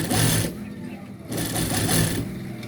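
Short close bursts of sewing machine stitching on a men's shirt collar start and stop in quick pulses, with a speaking voice underneath.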